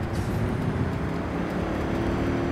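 A car engine rumbles steadily while driving through city streets in Cyberpunk 2077, a close, continuous low drone with road noise and no breaks.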